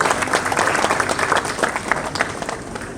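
A large audience at a university environmental awards ceremony applauds loudly and steadily in welcome of the chief guest, a district forest officer, a dense continuous wash of many clapping hands filling the whole stretch.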